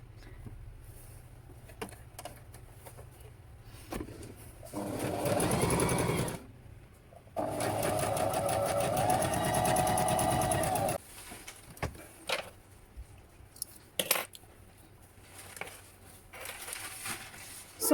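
A Juki HZL-355Z / HZL-357Z domestic sewing machine runs in two sustained bursts of rapid, even stitching, about two and six seconds long. Quiet gaps around them carry faint handling clicks and rustles.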